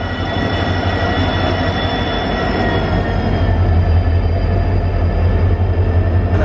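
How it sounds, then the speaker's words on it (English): A train pulls into a station near Ajmer, India, with a loud, steady rail rumble and sustained high metallic tones from the wheels and carriages, close by throughout. "And here comes my train."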